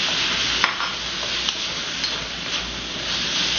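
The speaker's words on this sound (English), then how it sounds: "it's still going to stir fry for a few more seconds here" Chicken and peppers stir-fry in a hot pan, a steady loud sizzle with a few light scraping stirs of the utensil repeating every half second or so, close and continuous with no talking.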